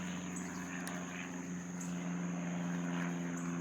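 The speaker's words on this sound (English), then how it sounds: "And another airplane." Propeller airplane droning overhead at an air show near a cemetery, a steady engine hum with strong tonal bands that swells slightly louder toward the end, with no one speaking.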